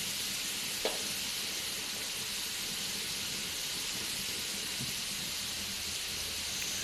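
Stir-frying in a pan as oyster sauce goes in: a steady, even sizzle and hiss with one brief clink, at moderate level, with no talking.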